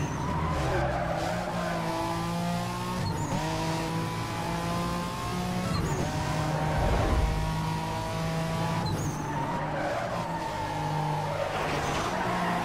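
Classic Ferrari drifting sideways in Need for Speed Most Wanted Redux, with continuous loud tire squeal over a droning, revving engine throughout.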